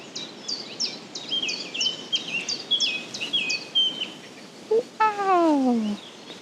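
Birdsong along a forest path: a small bird sings a rapid series of high, sweeping chirps, then a louder descending whistled call rings out near the end, all fairly close and clear with no talking.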